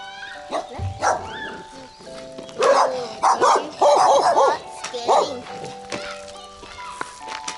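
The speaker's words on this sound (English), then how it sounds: "Are you not scared of dogs?" Several dogs barking in short, scattered bursts at moderate distance, some yips and whimpers among them, with children's and adults' voices chattering in between.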